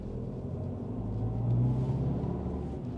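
A 2015 Ford Fiesta with a 1.5 diesel engine drives through town, its low engine drone and road rumble steady and close throughout, swelling slightly midway, with no talking.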